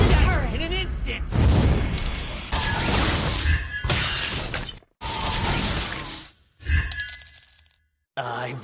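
Turret destruction in Mobile Legends during a Dyroth match: bright shattering crashes and metallic clangs in several bursts, with chimes and other game effects and an announcer's voice mixed in.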